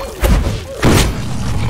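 Explosions from a bomb in the Roblox game Combat Warriors: two heavy, loud booming thuds about half a second apart, each leaving a muffled rumble that trails off.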